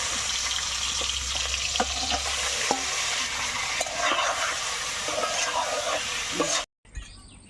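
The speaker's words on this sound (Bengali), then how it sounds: "দেখেন তেল দিয়ে নিচ্ছি চিংড়ি মাছগুলো হালকা ভেজে নিতে হবে" Prawns lightly frying in oil, a steady dense sizzle with occasional stirring clicks, loud and close throughout before cutting off abruptly near the end.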